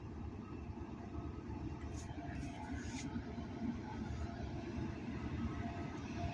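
A GE wide cab freight locomotive passes on a curve at night, working hard: a deep, steady diesel rumble with rolling wagon noise, moderately distant and constant, with faint squeals above.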